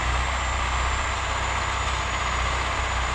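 A YUMZ 8240 tractor running a two-metre Bomet rotary tiller through heavy clay soil, giving a steady, loud, continuous engine drone and mechanical rumble with no letup and no talk.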